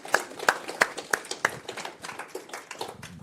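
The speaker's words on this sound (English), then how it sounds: "So let's give them our thanks and our applause." Applause from an audience at a school board meeting, a handful of sharp, distinct claps at first, then thinning into lighter scattered clapping, moderately quiet in a room.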